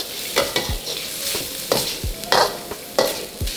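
Pork and sliced garlic are stir-fried in a pan, with repeated scraping strokes of a spatula and metallic clinks over a crackling sizzle, close and lively in an uneven rhythm, no talking.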